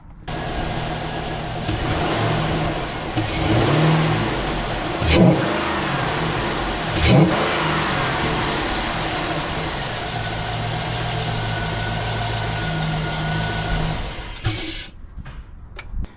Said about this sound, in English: We're gonna go ahead and start it up and give it a couple revs and let you hear it compared to the stock.